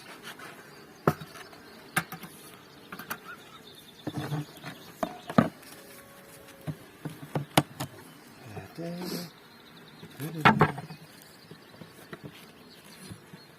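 Honey bees buzz around an apiary while colonies and their frames are moved between hives, a faint continuous hum under irregular wooden knocks and clunks of hive parts, with occasional voices nearby.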